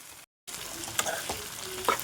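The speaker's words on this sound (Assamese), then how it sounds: "ভালদৰে লৰাই ভাজি থাকিম।" Boiled sweet potato and tomato are stir-fried in a pan, giving a close, steady sizzle with occasional spatula scrapes after a brief dropout at the start.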